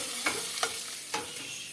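Soft sizzling of sweet and hot peppers frying in a pan, broken by a few quick stirring scrapes at a close, quiet level.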